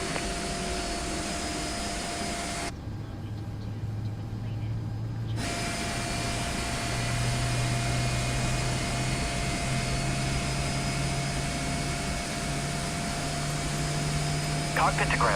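A TWA Boeing 767-200 jet engine starting in a flight simulator game, a low rising hum that climbs in pitch over several seconds under a steady turbine whine, fairly quiet, with faint voices.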